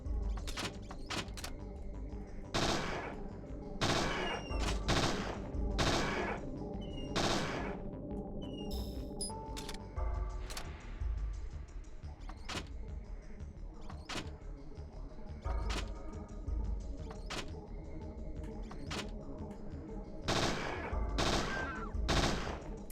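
Gunfire in the survival horror game Parasite Eve II, with repeated sharp shots in bursts and single cracks spread across the whole stretch, loud and close, over a low ambient bed with no talking.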